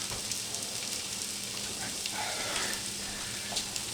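Potatoes frying in beef fat while being stirred and mixed in the pan, a steady close crackling sizzle with soft scraping stirs throughout, no voices.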